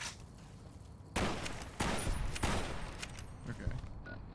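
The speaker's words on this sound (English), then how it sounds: "there's two even shooting at me" Enemy gunfire in Fallout: New Vegas, a handful of sharp, loud shots cracking out at irregular intervals over a steady game background hum, with no talking.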